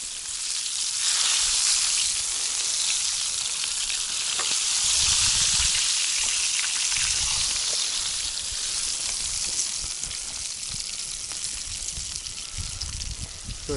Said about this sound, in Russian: Просто, ребят, масло и рыба. Хорошая сковородка